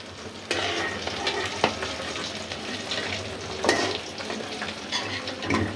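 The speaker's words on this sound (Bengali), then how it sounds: "পেঁয়াজ দিয়ে দিলাম ওই চিংড়ি মাছের তেলেই" Sliced onion fries in leftover prawn oil with steady, dense sizzling, punctuated by several sharp stirring scrapes of a spoon against the pan, close and fairly loud throughout.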